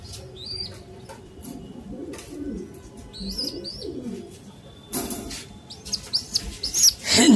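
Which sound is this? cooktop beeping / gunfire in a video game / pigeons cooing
pigeons cooing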